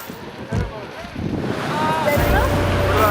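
Strong typhoon wind blows steadily across the microphone outdoors, a loud rushing roar that swells toward the end, with a brief low buffet near the start.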